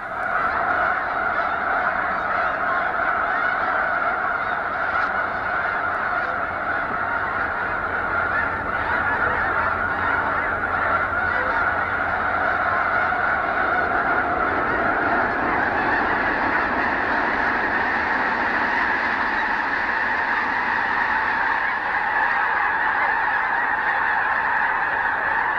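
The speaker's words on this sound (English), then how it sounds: "in the cacophony of snow geese at Missouri's Squaw Creek" A huge flock of snow geese honks continuously at Missouri's Squaw Creek Wildlife Refuge, a dense, loud, unbroken wall of overlapping calls.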